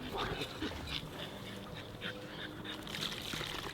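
A French bulldog snuffles and whimpers close by in short bursts, with faint background noise and a few voices nearby.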